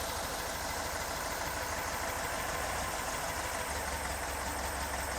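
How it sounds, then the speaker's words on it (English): Idling flat-four engine of a 1974 Porsche 912 during a tune-up, a steady dense rumble and hiss with a small change in tone near the end as a spark plug wire is pulled off, no talk. "just pull one plug at a time, one wire at a time, and see how that drops the RPM"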